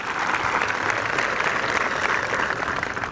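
Audience at a high school commencement applauding the band, a steady, dense wash of clapping throughout, fairly loud and uninterrupted.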